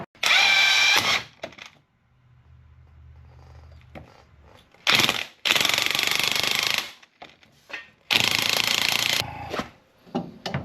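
Loud bursts of an impact or power wrench driving a spring compressor on a new front coil spring for a 1968 Ford Mustang suspension upgrade, three long grinding runs separated by a low steady hum and quiet pauses.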